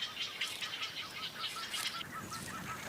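Wild birds in Africa's Okavango, calling in repeated honking, goose-like cries over a low, quiet background, with a few chirps, moderately close and steady across the stretch, and no talking.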